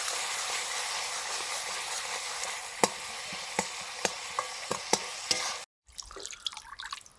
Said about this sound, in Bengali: জল দিয়ে মশলাটা কষে নিচ্ছি